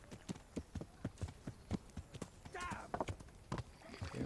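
A horse's hooves clip-clop in a steady, fairly close rhythm in the medieval video game Kingdom Come: Deliverance, with a brief scraping rustle partway through.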